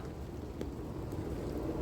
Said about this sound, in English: It has been torrential rain for God knows how long, past 45 minutes.